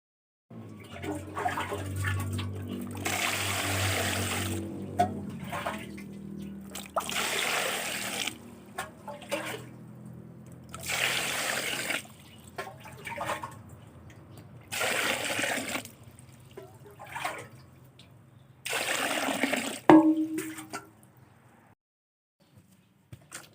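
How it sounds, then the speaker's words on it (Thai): Pumpkin pieces rinsed under running tap water in a kitchen, a steady splashing and trickling stream broken by short pauses, with occasional clinks of the pieces being handled. "เดี๋ยวเราไปล้างฟักทองกันค่ะ"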